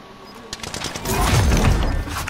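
Rapid bursts of gunfire crackle in a first-person shooter match, coming from the side in dense, overlapping volleys that swell louder toward the middle.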